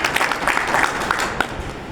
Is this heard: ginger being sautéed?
no